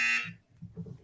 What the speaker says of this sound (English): then the buzzer does sound.